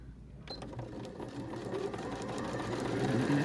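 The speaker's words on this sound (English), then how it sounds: "we're just sewing the outer layer." A sewing machine stitches the outer layer of a zipper bag, starting up and running with a fast, steady mechanical chatter that grows slightly louder and holds throughout.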